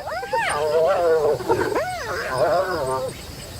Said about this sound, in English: The laugh of a gathering hyena clan.